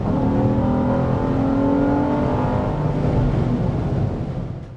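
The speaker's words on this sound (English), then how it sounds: "when you get on the gas, it actually gets fairly loud" A 2014 Acura MDX crossover engine accelerates hard, rising harmonic tones climbing steadily under a loud, continuous drone for several seconds before easing off at the end.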